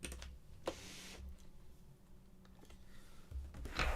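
Quiet, sparse keystrokes on a computer keyboard, a few soft clicks and taps spread over a few seconds in a hushed room, with faint rustling between them.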